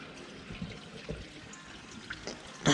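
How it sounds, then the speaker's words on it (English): Fuel draining out of a tractor's fuel filter on a farm, a soft continuous trickle and dribble heard close up, with small knocks and a louder clunk at the end. "That's all draining out."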